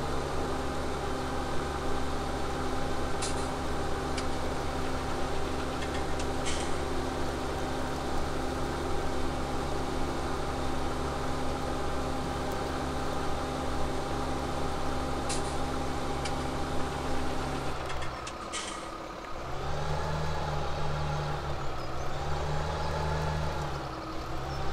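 Farm vehicle engine idling on a muck-spreading job, a steady droning hum with strong low harmonics that runs evenly, then shifts pitch and falters near the end as it winds down.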